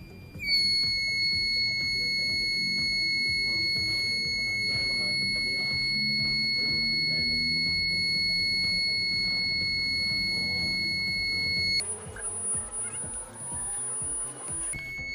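A small 3-volt electronic buzzer with its cover removed sounds a loud, piercing continuous tone that holds steadily, then shifts to a higher pitch near the end, with faint background voices.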